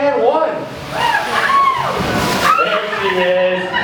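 An orca at SeaWorld Orlando surges up out of the pool and crashes back with a broad, rushing splash and sloshing water, heard under continuous announcer talk.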